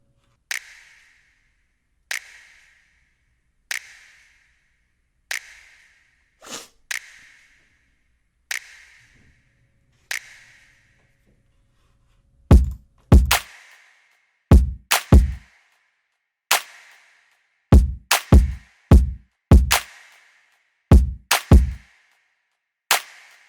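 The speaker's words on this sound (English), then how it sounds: "The next thing I started off pretty much was the drums and the snaps." Sharp finger snaps repeat at a steady pace, then deep kick drum hits join in, building into a sparse, punchy beat with no voices.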